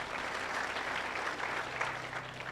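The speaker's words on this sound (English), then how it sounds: "you can clap for him again" Audience at an education and leadership congress claps in a brief, steady burst of applause, moderately distant and evenly sustained throughout.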